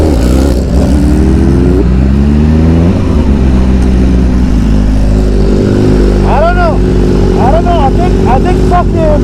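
A BMW S1000RR motorcycle engine revs hard and loud through a wheelie, its pitch sweeping up and down in surges. Voices are mixed in underneath.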